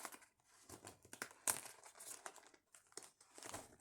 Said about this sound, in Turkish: Kutusunu düzgün açmak istiyorum.